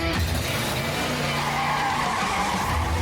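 A race car skids with a sustained tire squeal and engine roar, a loud, continuous smear of noise on the track that holds steady throughout without any talking.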